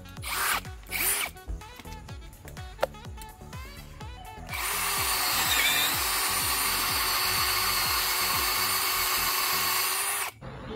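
Short bursts of a brushless cordless drill at first, then a long steady whine as a 25 mm auger bit bores continuously through hard ironwood at lowest speed, stopping abruptly near the end.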